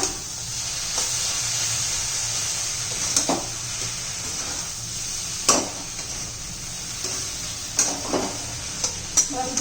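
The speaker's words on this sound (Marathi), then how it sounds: "व्यवस्थित हलवून घेऊया" Masala okra (bhindi) being stirred in a frying pan: a constant hissing sizzle with repeated spatula scrapes and knocks at irregular intervals, close up and free of talk.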